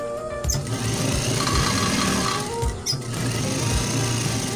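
Sewing machine stitching a washing machine cover, a steady close mechanical whir with a low rhythmic needle thump running continuously, briefly easing and picking up again.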